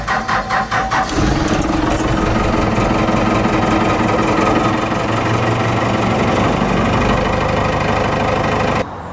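A 4BT Cummins diesel engine with a hard-starting lift pump issue cranks with a few rhythmic pulses, then catches and runs at a loud, steady, rough idle close by before cutting off at the end.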